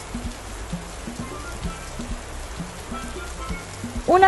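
Water pours from a watering can in a soft, continuous patter like light rain, fairly close and steady, with a brief louder sound at the very end.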